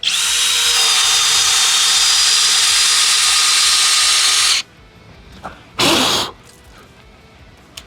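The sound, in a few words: FLEX hammer drill boring with 1-inch self-feeding auger bit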